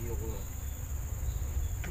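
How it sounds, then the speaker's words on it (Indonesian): Insects around a grave site, including kelulut stingless bees, make a continuous high buzzing and chirring drone in the open air, moderately loud and steady, with no talk. "ini ada terdapat 3 serangga yang menghuni makam beliau ini"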